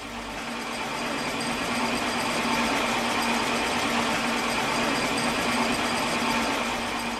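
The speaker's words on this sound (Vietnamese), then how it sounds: "đêm đêm cả làng lại xôn xao với những tiếng động cơ đều đều phát ra từ các máy xay đậu" Soybean grinding machines for making tofu drone with an even, steady engine hum in a village at night. The tone stays continuous and moderately loud, with no voices.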